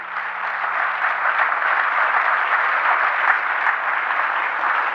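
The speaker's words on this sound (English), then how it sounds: "Let's give each and every one of you a big round of applause." Steady, dense clapping from an audience at a talk, loud and continuous for several seconds with no voices over it.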